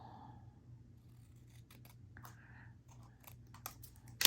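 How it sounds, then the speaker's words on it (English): Scissors snip through paper trimmed from a mini album page, a series of small, quiet crisp cuts close by, ending in a sharper, louder snip. "I'm going to cut that right off."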